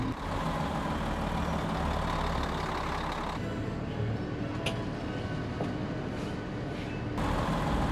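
A Class A motorhome on a Power Glide chassis backs into a campsite at an RV resort, its engine giving a steady, close, low rumble that stays even throughout. There is no talking and only faint, brief clicks.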